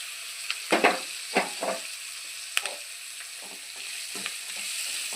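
Gourd curry frying in a pan, with a steady sizzle broken by several sharp spatula scrapes and stirs early on and a few softer ones later.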